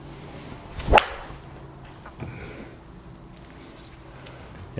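A Titleist TS hybrid golf club strikes a ball once with a sharp, crisp crack near the start, followed by a faint outdoor hush and a softer tick.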